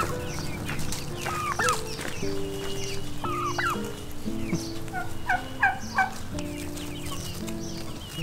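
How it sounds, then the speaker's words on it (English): Turkeys gobble repeatedly nearby on an urban farm in Chimalhuacan, their warbling calls rising over a background of clucking fowl and a steady low hum. "And these are our turkeys."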